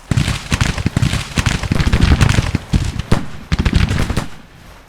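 Musket volleys from Civil War troops in a strategy game, a dense crackling run of many overlapping shots with brief gaps, loud and close, fading out at the end.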